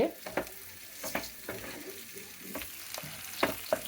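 Mashed eggplant frying in a pan with tomatoes and salt, a low sizzle broken by repeated scraping stirs of a spatula at an uneven rhythm, close and moderately quiet.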